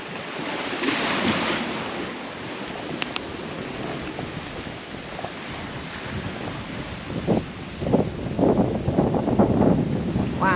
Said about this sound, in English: Wow, very windy out here.